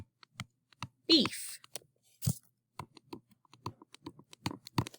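Rapid, irregular clicking of keys on a computer keyboard, close and fairly quiet, with someone speaking briefly over the typing.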